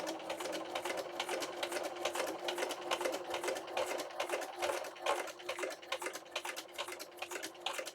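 Sewing machine stitching through plastic at the edge of a handmade card, a rapid steady run of close mechanical ticks and clatter with slight slowing, no voices.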